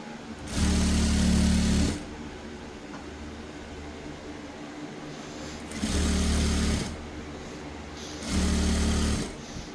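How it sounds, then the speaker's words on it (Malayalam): Sewing machine running in three separate bursts of about one to two seconds each while stitching along the bottom hem of a shirt, a steady loud whir with quiet pauses between runs. "താഴ്ഭാഗത്ത് തന്നെ സ്റ്റിച്ച് ചെയ്യണം കേട്ടോ"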